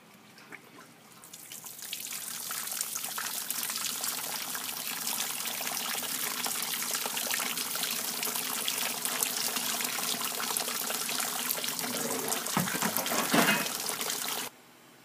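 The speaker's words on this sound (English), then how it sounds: "Now I'll show you the fancy sparge arm." Water sprays steadily from a sparge arm over a home-brew mash for a spiced winter warmer ale, a continuous close hiss and patter that runs unbroken for over ten seconds before stopping abruptly.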